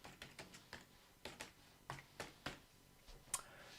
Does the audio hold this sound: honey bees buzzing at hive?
no